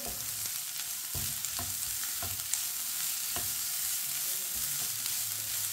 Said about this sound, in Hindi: गाजर डालेंगे। गाजर को भी 2 मिनट के लिए पका लेंगे।